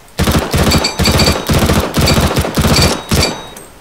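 Rifle gunfire aimed at a training target in Counter-Strike: Global Offensive, rattling out as several loud, close bursts of rapid automatic shots separated by short pauses.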